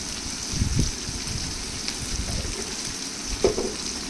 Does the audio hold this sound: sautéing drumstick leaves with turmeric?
yes